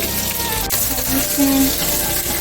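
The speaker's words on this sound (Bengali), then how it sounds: "মাংসটা ভেজে নিচ্ছি, প্রায় এটা হয়ে গেছে।" Meat fries in ghee in a pan, a continuous loud sizzle with light stirring noises.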